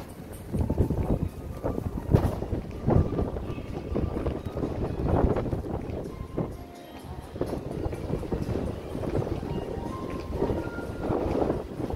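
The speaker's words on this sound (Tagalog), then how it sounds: "Oy, ang hangin." Gusty wind buffets the microphone in a constant low rumble, rising and falling throughout.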